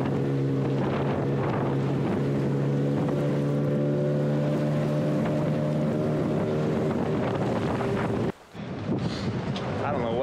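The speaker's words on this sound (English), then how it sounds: "I don't know what's up with this wind." Strong wind buffets an anchored sailboat in steep, choppy waves, a loud steady roar with a low droning hum through most of it before a brief dip and gusts resuming.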